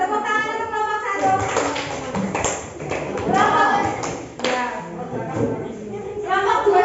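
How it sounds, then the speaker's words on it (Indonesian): Children in a classroom clap for a group of classmates, sharp uneven claps and taps mixed with kids talking over them, loud and close throughout. "tepuk tangan untuk kelompok 1"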